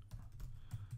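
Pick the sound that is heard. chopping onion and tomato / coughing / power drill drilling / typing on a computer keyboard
typing on a computer keyboard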